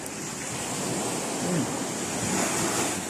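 Sea waves surge against the shore in a steady roar heard from a seaside room, broad and continuous with wind noise and no voices.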